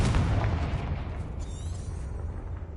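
A Confringo fire spell cast in Hogwarts Legacy on PS5, a loud booming burst at the start that fades into a rumbling decay, with no one talking.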